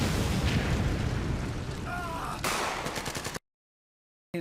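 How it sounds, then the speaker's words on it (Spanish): War sound effect of bombs exploding with heavy bass: dense rumbling blasts and crackling bursts, loud and continuous, then cut to silence before a brief return. "cuando caen las bombas al suelo, en la tierra y entonces explotan, hay muchos bajos"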